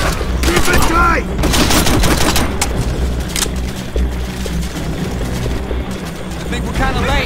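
Heavy gunfire rattles through an ambush in Call of Duty: World at War, dense bursts of rifle and machine-gun shots with booming impacts, loud and close.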